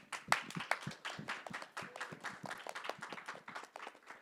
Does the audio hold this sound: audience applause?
yes